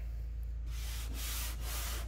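A finger rubs across a badly applied vinyl racing stripe on a Hot Wheels Edition Camaro, producing close, scratchy friction strokes with a couple of distinct swipes over a steady low background hum.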